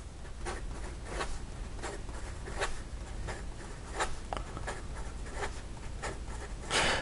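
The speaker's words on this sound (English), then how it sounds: "And how about in regard to some fast writing?" Quick scratchy strokes of a TWSBI ECO fountain pen with an extra fine nib moving fast across paper, a steady run of short bursts in a close, quiet room.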